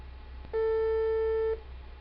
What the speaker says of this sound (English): And that sounds like a sine wave.